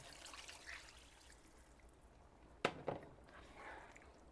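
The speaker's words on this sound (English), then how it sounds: "Next, I am adding 2 cups of water." Two cups of water poured into a cooking pot over a can of blended tomatoes, a faint steady trickle rising into a short sharp splash near the end, quiet and close with no talking.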